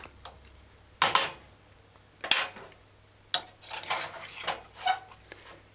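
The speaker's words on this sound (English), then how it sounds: "I'm just taking a one stir in my pot" A spoon stirs a pot of cabbage chicken stew, making a few sharp metallic clinks and scrapes against the pot at irregular intervals, close and fairly quiet, with no talking.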